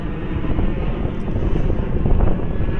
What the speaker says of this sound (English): plane coming up over here a little bit loud.